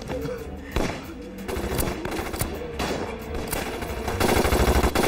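Rapid gunfire from a war film battle scene set in the anti-Japanese war, with dense bursts of shots and blasts running steadily through the whole stretch, loud and close with no talk over it.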